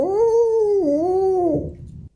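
A human voice imitates a northern elephant seal call at a school class event, one sustained, wavering howl-like bellow that dips in the middle and fades out, close and fairly loud.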